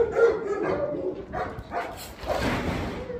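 A few puppies on a Chinese farm give short, soft barks and yips in a quick irregular series, fairly close but not loud, with faint background noise between calls.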